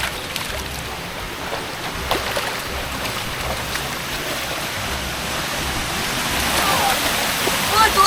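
Steady broadband rush of a waterfall at pools in Maui, constant and fairly close, growing slightly louder toward the end.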